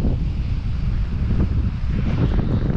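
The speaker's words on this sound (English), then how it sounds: "A wee bit, like, a wee bit breezy." Wind blowing at John o' Groats on the Scottish coast, a constant low buffeting roar across the microphone, with no voices.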